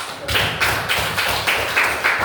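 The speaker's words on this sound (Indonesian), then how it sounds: "Beri aplaus." Classroom applause from students, heard as a series of short rhythmic bursts of clapping about every half second, moderately loud and close, with no talk over it.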